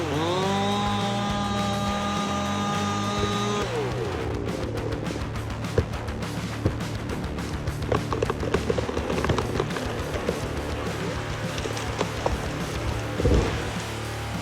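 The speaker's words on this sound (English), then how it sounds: "Chainsaws are heavy and generate intense vibrations." A chainsaw engine drones steadily, then bites into a huge tree trunk with a rough, crackling roar that keeps grinding on, loud and close.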